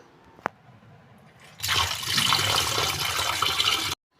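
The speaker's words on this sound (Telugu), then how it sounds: "ఇప్పుడు ఇందులోకి వాటర్ యాడ్ చేసుకుందాం" After a single faint click, water is poured into mashed curd to make buttermilk, a steady splashing pour of about two seconds that stops abruptly.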